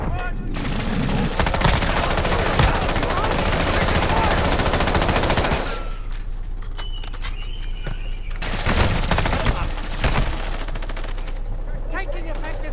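Heavy automatic gunfire in Call of Duty: Modern Warfare II, a long loud sustained burst of rapid shots, a short lull, then more bursts and scattered shots close by.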